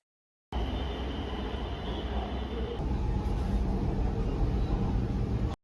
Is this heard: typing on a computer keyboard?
no